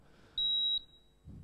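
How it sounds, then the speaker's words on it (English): A simple buzzer wired to a 9-volt battery and a switch, standing in for a home fire alarm, gives one steady, loud high-pitched tone of about 3.5 kHz lasting roughly half a second, with no talking. "the buzzer, which is just this,"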